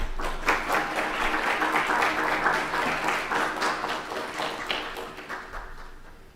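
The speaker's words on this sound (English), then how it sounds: "I would like you to give her a tremendous applause, a welcome" Lecture audience welcoming a speaker at an art and immunology talk with a moderate round of clapping, steady and mid-distance, swelling briefly then tapering off near the close.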